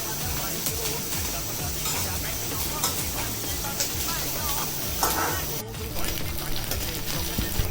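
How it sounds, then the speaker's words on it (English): Red chilies, green chili, onion, ginger and garlic sauté in a pan for a Goan fish curry, giving a steady sizzling hiss with occasional stirring scrapes, fairly close and continuous. "We are nicely sauteing the red chilies, green chili, onion, ginger, garlic."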